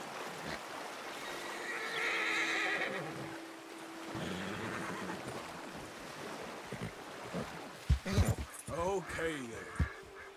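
Splashing water and wading noises of a horse in the video game Red Dead Redemption 2, followed by its whinny and snorts near the end, with a person talking partway through.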